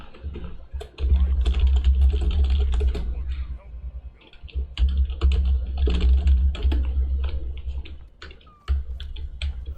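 Steady, close clatter of fingers typing on a computer keyboard runs in dense bursts with a few short pauses, heard while someone plays Deep Rock Galactic.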